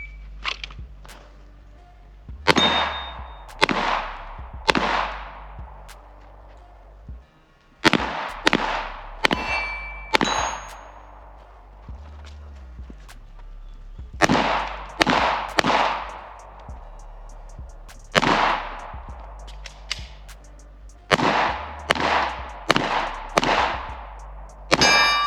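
Gunshots ring off steel shooting targets at an outdoor range, sharp impacts each followed by a bright metallic clang, fired in quick clusters of three to five with pauses between, loud and close.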